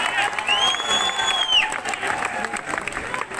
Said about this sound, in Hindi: आपकी तालियां बता रही हैं